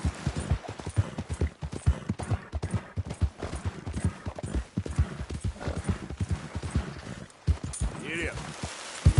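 Horse hooves clip-clopping in a close, steady walking rhythm, with a rider's voice urging it on over the hoofbeats.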